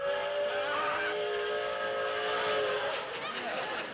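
A loud, sustained train whistle blows steadily with layered tones, held for several seconds before wavering slightly at the end.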